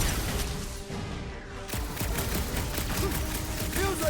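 Rapid gunfire in the video game Marvel's Guardians of the Galaxy, a dense stream of quick shots that picks up after a brief lull, steady and prominent over a busy combat backdrop.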